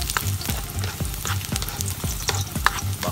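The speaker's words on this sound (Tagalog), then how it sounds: "Siyempre, lagyan na natin siya ng bawang." Garlic sizzles steadily in a pan for crab cooked in coconut milk with squash, with rhythmic stirring scrapes cutting through the frying about every half second, close and alone.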